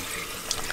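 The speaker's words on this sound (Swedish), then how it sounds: "Så den där, kör kallt vatten." Cold water running from a kitchen tap, a steady close hiss of flow without breaks, brief and alone.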